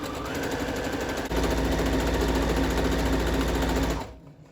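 A sewing machine runs a steady, loud stitching seam along a tote bag made with French seams, speeding up slightly partway through before stopping abruptly near the end, with no talking.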